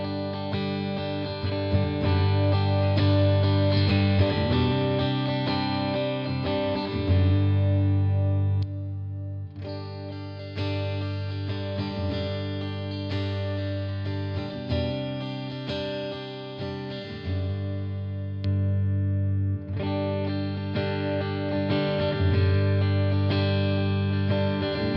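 Distorted Ibanez electric guitar with a split-coil pickup, thick chugging riffs with chorus and effects, loud and continuous with short pauses between phrases and no talking.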